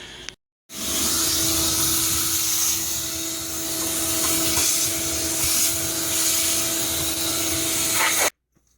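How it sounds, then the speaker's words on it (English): A vacuum cleaner drones steadily for several seconds inside the filter housing of a Whirlpool washing machine, with a constant whine, starting and stopping abruptly, no voices. "So we're gonna try to vacuum out"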